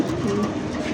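A male fancy pigeon of the Lahori breed coos at close range, a soft low warbling burble that runs continuously through the moment with a faint background hum.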